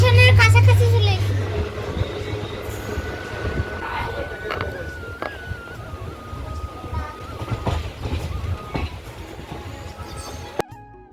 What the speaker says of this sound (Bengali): তবে ট্রেন স্লো করে দিয়েছে